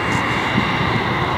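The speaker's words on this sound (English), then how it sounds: "Big plane." A large airplane passes overhead at an outdoor baseball game, its engines making a steady, broad, continuous roar that stays loud throughout without any voices.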